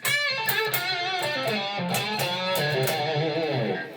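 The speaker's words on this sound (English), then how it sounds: "That sound is using the bridge pickup" A bright, twangy Gibson SG electric guitar on its bridge pickup plays a short melodic phrase of sustained notes, close and clear, with a sharp, cutting treble tone.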